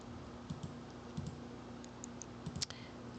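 Soft, quick taps on a computer keyboard in a quiet room, irregular clusters of faint clicks with a low electrical hum underneath.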